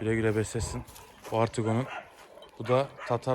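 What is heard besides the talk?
No distinct noise like a dog, phone or traffic.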